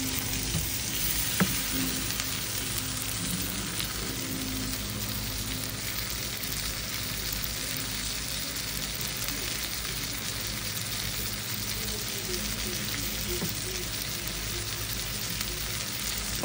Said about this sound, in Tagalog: magisa ang ating spare ribs sa onion and garlic na may butter